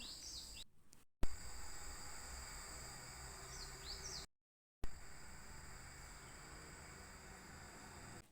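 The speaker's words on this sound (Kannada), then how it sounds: "ಪೀಸ್ಫುಲ್ ಮಾರ್ನಿಂಗ್ ಅಂತ ಅನಿಸುತ್ತೆ ಈ ಹಕ್ಕಿಗಳ ಶಬ್ದವನ್ನು ಕೇಳಿದ್ರೆ" Morning birds chirp and tweet in short bursts over a steady background hiss, with the sound cutting out briefly twice.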